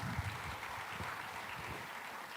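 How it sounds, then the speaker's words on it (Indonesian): Applause from a talk-show audience for four panelists at a keynote session: a soft, steady wash of clapping, fairly faint and distant, with no speech over it. "Sekali lagi kita berikan aplaus yang meriah kepada 4 panelis kita"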